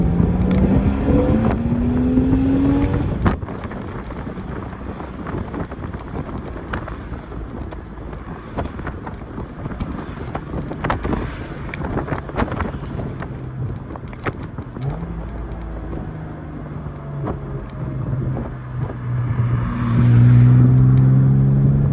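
A 2003 Porsche 986 Boxster S with its secondary catalytic converters removed accelerates, the engine and exhaust note rising in pitch at the start and again near the end, with road and wind rumble in between and no talking.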